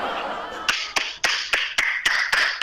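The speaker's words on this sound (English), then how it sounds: "She's clapping for you." A single person claps in a slow, steady run of about eight sharp, close smacks, each one distinct and spaced evenly over the span of a few seconds.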